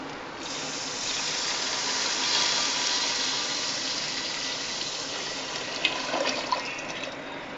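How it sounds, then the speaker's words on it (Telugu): Water poured into a small pot for cooking rice, a continuous close rushing splash that holds steady, then a few knocks and clatters near the end, with no voices. "ఇప్పుడు వాటర్ అనేది పోస్తున్నాం అన్నమాట ఫ్రెండ్స్"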